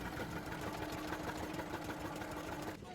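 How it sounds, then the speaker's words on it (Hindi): Village engine running to power a house, a steady mid-pitched idling drone with a rapid mechanical chug, continuous and fairly close, easing slightly at the end. "आवाज़ आप सुनिए, इंजन की आवाज़ आ रही है चलने की"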